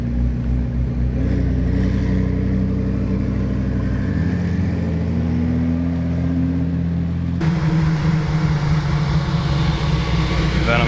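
A McLaren Senna supercar engine drones loudly close by, rising in pitch as it revs, then dropping and surging again to a harsher, heavier tone partway through.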